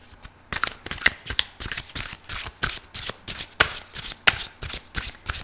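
Tarot cards shuffled by hand in a steady rhythm, a crisp riffling flutter repeating every half second or so, close and moderately loud, with no talk over it.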